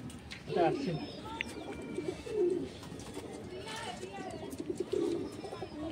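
Madrasi and Andhra pigeons in a loft coo in several soft, rolling phrases, with faint chirps and other background bird calls around them.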